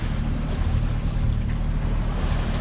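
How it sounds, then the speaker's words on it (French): Sailboat under engine at 1800 rpm with mainsail and genoa up, making about 5 knots on a night crossing between Corsica and the mainland: a steady low engine drone with continuous water rush, constant and close. "là on est à 5 nœuds, 1800 tours moteur, et GV plus génois."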